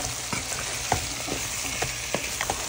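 Sweet potato pieces and mixed greens are stirred and sautéed in a clay pot over a constant frying hiss, with a spoon scraping and knocking at irregular intervals, close and fairly loud.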